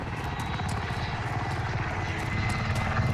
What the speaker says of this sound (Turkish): Bak o helikopterlere